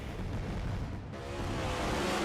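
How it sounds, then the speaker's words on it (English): Fireworks go off in the background, a dull rumbling boom with crackle that swells toward the end, over a steady wash of noise. "we've got fireworks going off in the background"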